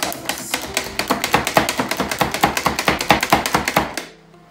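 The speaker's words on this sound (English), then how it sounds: "You want to chop these up pretty fine." A knife chops onion and garlic cloves on a board in a quick, even run of about thirty sharp, close taps that stop abruptly.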